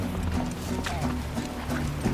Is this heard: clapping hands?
no